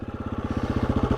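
A motorcycle engine during wheelie practice, revving in a steady rapid pulsing rhythm at close range and moderate loudness, with no voices over it.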